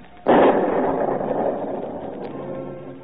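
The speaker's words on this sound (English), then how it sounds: "The boom of the cannon of independence echoes and re-echoes in every hamlet" A single loud cannon boom bursts out sharply, then rolls away in a long echoing rumble over a few seconds.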